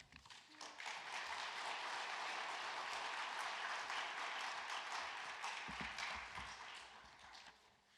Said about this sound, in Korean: 귀하고 은혜로운 말씀 전해주신 목사님께 다시 한번 큰 박수 부탁드립니다